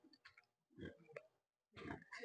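Pigs at a pig farm where hogs are butchered give off three short bursts of low grunting and snorting, fairly faint and close, with quiet gaps between them.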